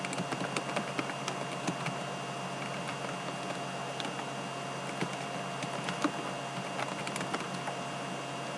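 Typing on a computer keyboard during an online English class, quiet irregular clicks and taps of keys at close range over a faint steady hum, no talking.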